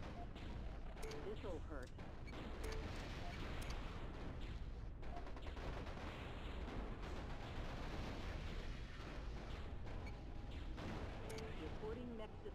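Gunfire and artillery rumble continuously in the MechCommander Gold battle, a dense, heavy barrage with scattered sharper bursts. Radio-style voices talk over it.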